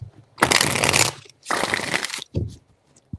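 Tarot cards being shuffled in two long, loud riffling bursts, then a shorter flick and a faint tap, close up with no voice over them.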